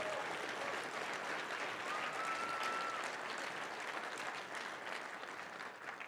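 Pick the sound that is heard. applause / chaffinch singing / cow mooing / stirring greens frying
applause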